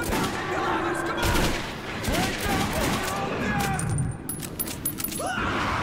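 Rapid gunfire and fusillades from a first-person shooter, Metro 2033, firing at enemies in dense bursts with clinking shell-like sounds, loud and continuous, under frantic shouting from a player.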